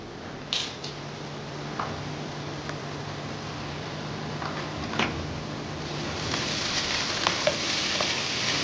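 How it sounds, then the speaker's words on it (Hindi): Dal frying in a karahi over a low flame, a steady soft sizzle with occasional scraping stirs of a spoon, close and fairly quiet, with no voices. "स्लो आंच पर ही इसे फ्राई करेंगे"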